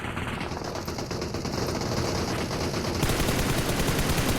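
Dense automatic gunfire in PUBG Mobile during a competitive scrim match, continuous rapid shots layered over one another, growing louder and fuller partway through with no voices.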